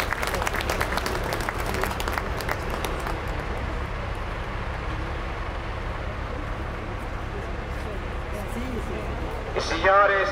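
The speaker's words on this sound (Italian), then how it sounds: "Facciamo un applauso ai nostri agricoltori." Outdoor crowd applauding farmers at a tractor blessing among the vineyards of Castrovillari, a steady broad patter of clapping lasting throughout with voices mixed in.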